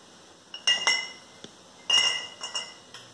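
Glass canning jars and metal lids for bottling hamburger meat clink together in about half a dozen sharp, bright taps, some doubled, close up in an otherwise quiet room.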